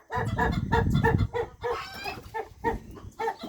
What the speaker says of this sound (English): I'm going to go check on the rest of the chickens and give them some water and some feed